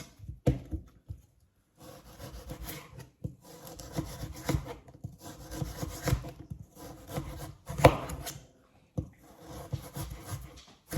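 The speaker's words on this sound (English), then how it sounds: "So we're gonna cut little cubes out of it." A knife chops a carrot into small cubes on a board, quiet repeated cutting and scraping strokes with short pauses between bursts, close up and without talk.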